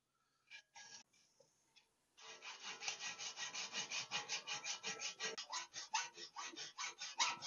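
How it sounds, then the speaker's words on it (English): A hacksaw cuts through a vintage steel bicycle frame tube in quick, rhythmic back-and-forth strokes, close and steady, after a few tentative starting pulls. "we'll separate the down tube and the seat tube just by sawing through the middle"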